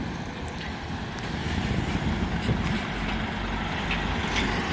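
A Scania E400 MMC double-decker bus, route 349, pulling away at a Bristol bus stop, its diesel engine a loud, close, steady low rumble that swells slightly as it moves off.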